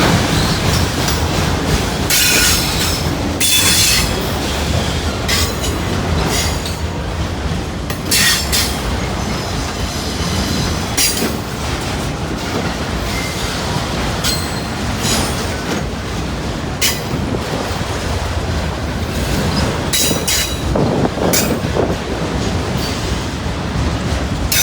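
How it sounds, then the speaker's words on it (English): Loaded freight train with autorack cars rolling past on the main line, a loud sustained rumble of wheels and cars close by, punctuated by repeated sharp high wheel squeals and rail clatter. "Another big Bucks train going by us here."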